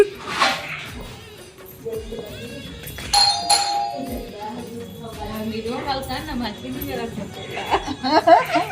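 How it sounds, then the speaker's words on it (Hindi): A doorbell rings in a home with a bright chime, heard under ongoing conversation and some laughter, fairly loud and close. "घंटी बजा दे"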